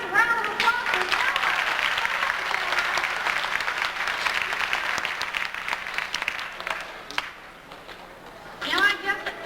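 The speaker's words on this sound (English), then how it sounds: "Let's have a nice round of applause for Thelma." An audience at the Oklahoma City Zoo dolphin show in 1989 applauds the dolphin Thelma. Loud, sustained crowd clapping carries on for about eight seconds, then fades as a presenter's amplified voice returns.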